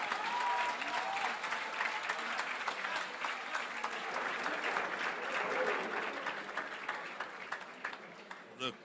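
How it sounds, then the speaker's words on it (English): Squash crowd at the WSF Under-23 World Championships finals cheering and applauding after a drop shot, a dense roar of clapping and shouts sustained throughout before easing slightly near the end. "The crowd going absolutely wild at the slightest glimmer of hope."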